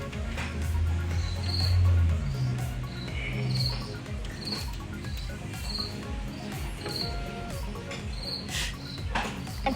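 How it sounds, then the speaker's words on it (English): Crickets fed to a pet scorpion chirp in short, regular high-pitched pulses, fairly faint over a low background rumble and soft scraping, with no talk. "Now let's let our scorpion eat something. Crickets."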